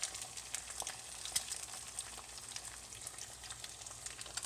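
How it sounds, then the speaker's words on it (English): Bacon frying in a pan of grease, a steady close crackling sizzle with scattered sharp pops throughout, no voices. "You see the bacon grease going all around it."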